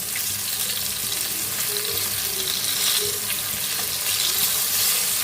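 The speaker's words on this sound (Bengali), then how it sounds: "এবার এগুলো একটু উল্টে পাল্টে ভেজে নেব পুরো কুরকুরে হয়ে যাবে" Chicken fingers bubble and crackle as they deep-fry in hot oil, a steady busy sizzle with faint clinks in the background.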